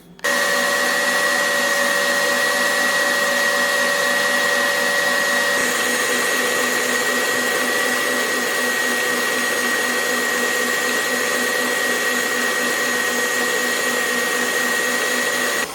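An electric mixer beats cream into homemade butter, a loud, even motor whine with a steady hum that starts abruptly and runs without pause, shifting pitch slightly midway as the load changes.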